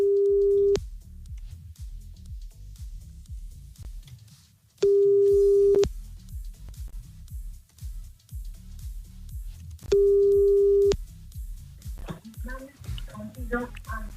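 Telephone line tone heard while redialing a call on a French radio show: three loud, steady beeps, each under a second long and spaced about five seconds apart, over a continuous low rumble of studio background noise.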